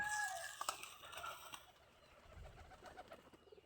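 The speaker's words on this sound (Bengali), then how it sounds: "আমার এই যে কবুতর আছে অনেকগুলা, আরও আছে, দেখাইতেছি।" Pet pigeons kept at home, with soft, low cooing and a few faint bird calls against quiet background rustle and light crunching; the sounds are gentle and fairly distant.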